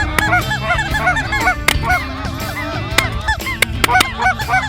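A flock of geese honks loudly and nearly nonstop over a goose-hunting field near waterfowl refuges, many overlapping calls near and far, with a few sharp knocks punctuating the din.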